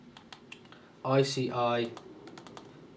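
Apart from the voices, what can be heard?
typing a command on a computer keyboard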